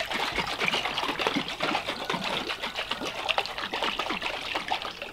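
Salt brine trickles and splashes steadily into a container over cucumbers being prepared for fermenting, a continuous close pouring sound with no talking.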